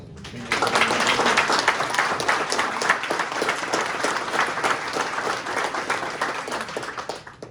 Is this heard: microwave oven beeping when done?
no